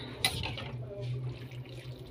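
Hot water running and splashing into a kitchen sink basin as food is set to soak, a short burst of pouring with a faint low hum beneath.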